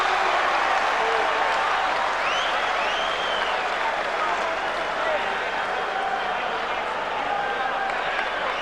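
Boxing arena crowd at a Lennox Lewis vs David Tua championship fight, a dense continuous roar of applause and cheering filling the whole stretch, loud and sustained.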